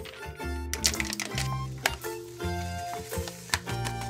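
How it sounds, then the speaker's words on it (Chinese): Instant vanilla pudding mix is whisked into condensed milk and iced water in a bowl, making repeated wet scraping and clinking strokes at close range in an uneven rhythm, with no talking. "搅拌差不多2分钟"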